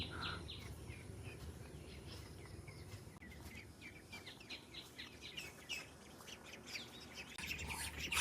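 Faint domestic ducks quacking at a distance on a farm, mixed with bird chirps and insect buzz in a quiet outdoor setting.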